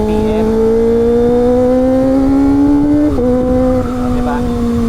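Kawasaki ZX-25R with an inline-four engine, a loud, high-pitched wail climbing steadily through the revs, breaking sharply at a gear shift and then pulling again, up close with speech faintly underneath.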